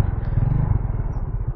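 A motorcycle engine idles and rumbles close by while the rider parks it along a road, a steady low pulsing drone with no talk over it.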